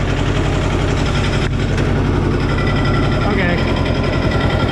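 A Cub Cadet 128 diesel garden tractor with a newly replaced clutch idles close by, a steady loud low rumble with even throbbing, while someone briefly speaks over it.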